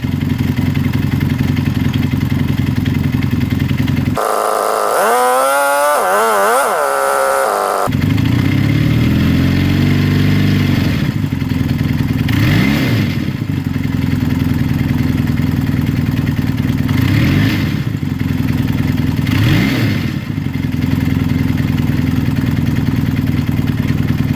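Motorcycle engine running after a carburetor rebuild, steady mid-pitched idle broken by a loud throttle burst early on, then several sharp revs rising and falling in quick succession, close and loud throughout.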